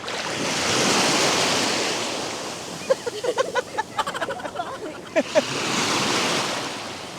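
Sea waves wash onto a beach in Bataan in the morning with a steady broadband surf roar that swells, dips briefly under a short stretch of scattered sounds, then rises again.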